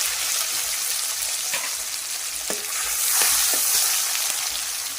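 Tomato and chopped onion fry in mustard oil, a dense hissing sizzle that swells slightly midway, with a few soft clicks of a utensil against the pan.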